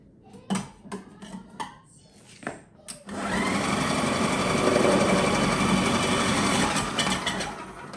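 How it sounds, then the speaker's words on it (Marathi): A food processor kicks in and whirs loudly and steadily, chopping carrots for carrot halwa, after a few sharp knocks and taps at the start. "आता मी याच्यातच करणार आहे बारीक फूड प्रोसेसरमध्ये"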